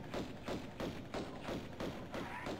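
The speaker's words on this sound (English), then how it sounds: "Shooting something." Gunfire in the video game Tomb Raider Remastered while tigers are hunted: a rapid, even series of about eight muffled, thudding shots, fairly close and steady.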